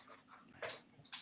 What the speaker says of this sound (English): now the neighbor's dog is here.